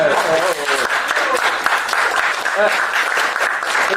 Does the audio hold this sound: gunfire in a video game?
no